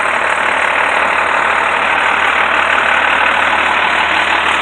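A utility truck used for reinstalling a PTZ camera sits with its engine idling, a steady, loud, close rumble with a broad constant hiss and no variation or talk.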